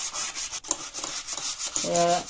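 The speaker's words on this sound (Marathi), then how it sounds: "हे बघा दोघे साईडनी स्वच्छ करून घ्यायची एकदम कैची" Iron scissors being wiped clean on both sides, a close, steady rubbing and scraping with short repeated strokes, alone without speech.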